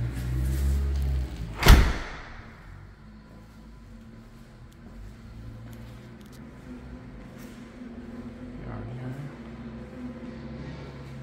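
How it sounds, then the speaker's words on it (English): A house door is pulled shut with a single sharp, close thud, followed by quiet room tone and faint movement. "I'm gonna shut that door."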